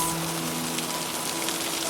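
Steady rain falling and pattering on a surface, a soft continuous hiss of drops with no voices, faint and even throughout.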